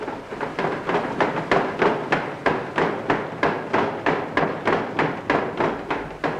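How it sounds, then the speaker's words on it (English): Water-driven trip hammers pound shredded linen rags to make paper pulp. The heavy blows fall in an even, relentless rhythm of about three per second, loud and close, with nothing else heard. "pounded by hammers, tripped again"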